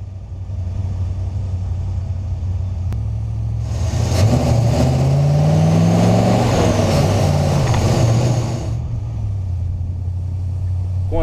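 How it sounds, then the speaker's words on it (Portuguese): A 1964 Ford F-100 pickup's 292 V8 idles with a steady low rumble, then revs up loudly for several seconds with rising and falling pitch before settling back to idle. "Ela veio equipada com motor 292, era o motor do Galaxy"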